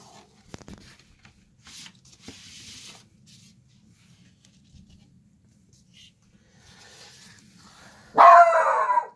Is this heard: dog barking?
yes